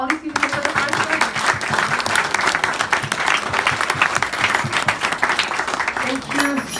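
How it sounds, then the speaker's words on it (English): Congregation applause for first-time visitors at a Vedic cultural center in Austin, a dense, steady clapping that fills the room for the whole span, with some voices mixed into the crowd noise. "Can we all give a huge round of applause for all these people here for the first time?"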